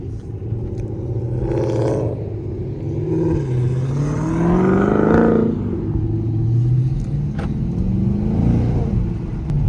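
A Dodge Charger R/T heading out on a drive, its engine rumbling steadily and rising in pitch as it accelerates, then easing back before building again, close and continuous with no talking.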